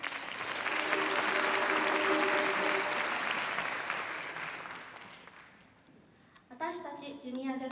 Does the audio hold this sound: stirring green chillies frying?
no